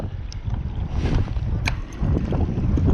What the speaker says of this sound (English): Yeah, it's pretty windy out here.